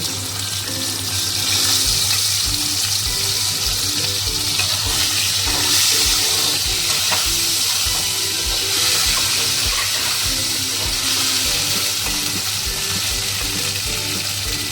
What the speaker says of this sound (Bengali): এই মাছ ভাজার তেলে এই কচুর ঘাটিটা ভেজে